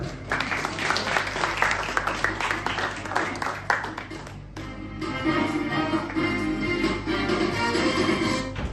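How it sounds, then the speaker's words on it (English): A seated audience at an event gives a warm welcome to a tax-practitioner speaker with dense, continuous applause that stays loud and full throughout, with a slight shift in tone midway. "please, everyone, join me in giving a warm round of applause to our second speakers, Ms. Nares."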